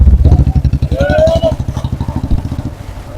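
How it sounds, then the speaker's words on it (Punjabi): A motorcycle rides along an unpaved rural village road, its engine a loud, close, rapidly pulsing putter that holds steady for several seconds while a voice is heard over it. "ਇੱਥੋਂ ਮੋਟਰਸਾਈਕਲ ਜ਼ਰੂਰ ਲੰਘਦੇ ਨੇ"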